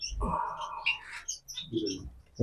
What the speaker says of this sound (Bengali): এই হচ্ছে দাদার জাভা পাখি